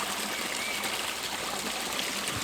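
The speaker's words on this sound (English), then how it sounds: "We've got the new fountain," A new pond fountain runs steadily, its water splashing and trickling in a constant, moderately loud stream with no voices over it.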